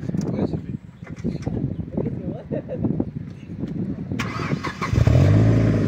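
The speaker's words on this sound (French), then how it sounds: "Alors Lucas il va nous démarrer la voiture vite derrière" Near the end, a third-generation Mazda MX-5 NC with a modified exhaust cranks and fires up close by, settling straight into a loud, deep idle rumble after a stretch of people talking.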